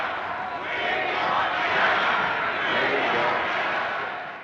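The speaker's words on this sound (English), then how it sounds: "It soon becomes clear that the crowd are chanting," A large election crowd at a Churchill campaign event, its chanting and shouting blurred into a steady, distant roar that swells and fades over several seconds.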